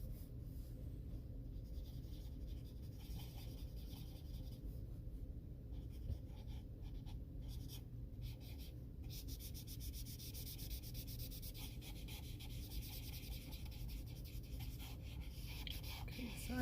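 Steady, continuous scratchy rubbing of colored pencil on paper, close and soft, over a constant low background hum.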